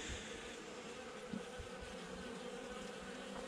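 A honeybee colony buzzes steadily during a November hive inspection, a dense continuous hum with no voices.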